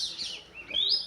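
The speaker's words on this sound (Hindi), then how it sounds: "पक्षियाँ भी चहचहा रहे हैं" Birds chirp outdoors in calm weather, a brief pair of high tweets, the second louder and closer.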